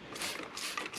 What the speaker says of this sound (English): So let's spray this cleaning solution in here without getting it all over the burners